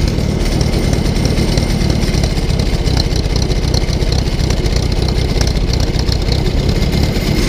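An old tractor engine runs at a steady, loud idle with a rough, even chug for the whole stretch and no talking.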